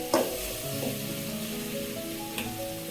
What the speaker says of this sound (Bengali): মাংসগুলো ভালোভাবে কষাতে হবে।